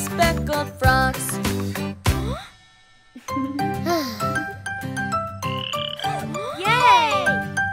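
Cartoon frogs croak in a rhythmic pattern inside a bright children's song about speckled frogs. The croaks are loud and close, mixed with tinkly melody and sung voices.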